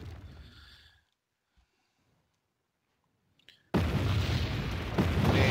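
Loud, dense blasts from TOW missiles fired by a Cobra attack helicopter in the real-time strategy game Wargame, erupting abruptly after a brief near-silence and rolling on as a sustained roar of explosions.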